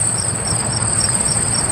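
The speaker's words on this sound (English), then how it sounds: "Crickets. Crickets for my watch parties." Crickets chirp in a steady, pulsing trill, used as a comedic silence effect; loud, close and alone with no voices.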